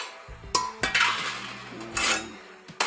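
Pots and metal utensils clatter and clink as they are gathered up, several sharp knocks and scrapes close by with ringing tones in between.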